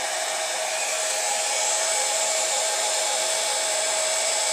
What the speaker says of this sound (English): A blow dryer will work just as well.